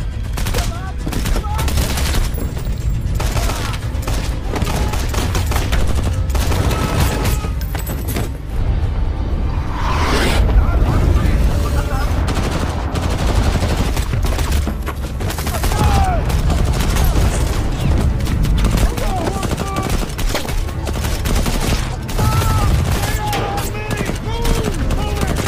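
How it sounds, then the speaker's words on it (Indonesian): A film battle with heavy gunfire coming from every direction, bursts of machine-gun fire and scattered shots that keep going with barely a break. It is loud and dense, with some shouting mixed in. "terdengar suara tembakan di segala arah"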